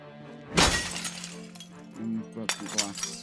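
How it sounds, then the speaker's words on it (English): Window glass breaking in the Project Zomboid video game: one loud crash as the pane shatters, followed by softer tinkling fragments and a second burst of breaking glass, with a voice speaking over parts of it. "Broken glass."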